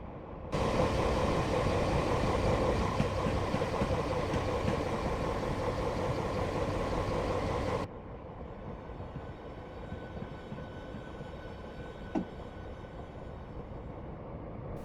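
A big HST diesel train idling at Cardiff Central platform in a railway simulator, a loud continuous engine rumble that drops sharply to a quieter hum partway through, with a brief clank near the end.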